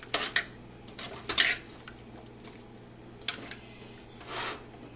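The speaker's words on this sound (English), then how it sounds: "I'm just going to stir them around so that they are all in the broth" A utensil stirs medium carrots in broth inside a cooking pot, giving a few scattered clinks and scrapes against the pot with quiet sloshing in between, close by and fairly soft.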